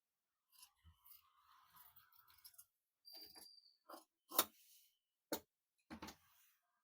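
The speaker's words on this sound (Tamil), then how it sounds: "இந்த பீஸ் அப்படியே கட் பண்ணி எடுத்துக்கலாம்." Scissors cutting blouse fabric at the front neck piece, heard up close as sparse, distinct snips and clicks with quiet gaps between them and no talking.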